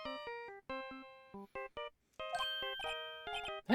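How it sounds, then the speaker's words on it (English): A phone ringtone plays a theme from the Phoenix Wright video game as a clean, melodic electronic tune of short bright notes, with a gap partway through, played fairly quietly. "And also, why is the phone ringing?"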